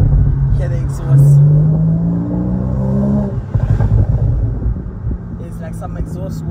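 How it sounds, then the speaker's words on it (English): A Porsche sports car with modified exhaust revs with a deep, rumbling exhaust note that rises and falls, close and loud, with voices talking faintly over parts of it. "Guys, this Porsche is actually crazy. Hear the exhaust."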